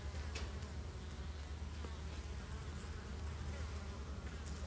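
Honeybees buzz steadily around blooming ume plum trees, a low continuous hum from many insects that stays even and moderately close, with no talk.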